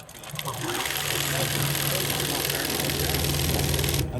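A Dürkopp Adler CNC pattern sewing machine runs steadily up close, a continuous mechanical whir with a low hum, with people talking over it throughout.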